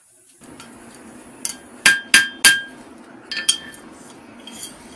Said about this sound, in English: I'm gonna punch a couple holes.